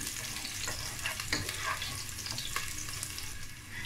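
Garlic and green chillies sizzle steadily in a pan of hot oil while a spoon scrapes and stirs now and then, a continuous close crackle without speech.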